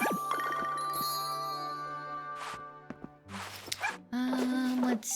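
Puppies in the farming video game Story of Seasons: Grand Bazaar give short yips and whimpers over light game music and chimes, with a few soft footstep-like taps.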